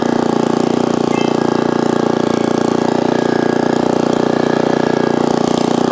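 A 6.5 hp four-stroke dual-shaft mini cultivator tills a small vegetable garden plot. Its engine runs with a loud, close, steady buzzing drone at constant revs, with no talk over it.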